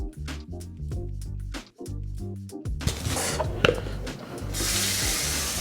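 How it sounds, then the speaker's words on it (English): Tap water runs steadily over husked whole tomatillos rinsed in a kitchen sink, with handling noises and a louder, broader splash of flow toward the end; no one speaks. "I'm gonna husk these and then rinse them"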